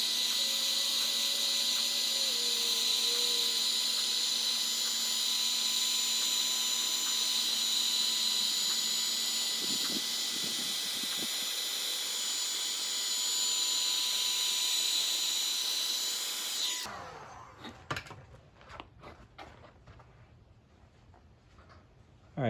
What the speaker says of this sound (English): We're gonna try the heat gun on this thing.